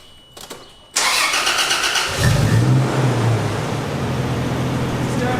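On the second attempt a truck engine cranks with a loud burst, catches and settles into a steady, rumbling idle close by.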